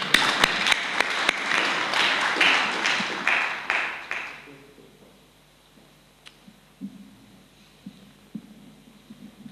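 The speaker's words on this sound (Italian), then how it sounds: "Facciamo un applauso." A conference audience at a gathering on family and work in Lamezia Terme breaks into clapping that lasts about four seconds and then dies away, leaving quiet room sounds, occasional knocks and a faint voice.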